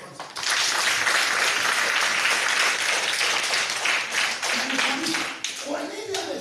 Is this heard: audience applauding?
yes